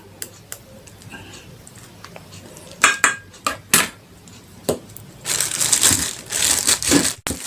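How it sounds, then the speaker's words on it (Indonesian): Rough crushing and scraping of hot steamed mung beans with palm sugar in a pot, scattered knocks early, then a sustained burst of grinding, clattering mashing near the end. "Ini kita tumbuk selagi panas-panas agar gula merahnya meleleh ya."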